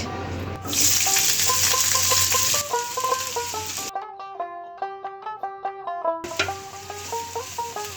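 Chopped onions fry in a pan for a taki fish mash, a steady sizzle that drops out for a few seconds and then returns, heard under a bright, melodic background tune with no speech.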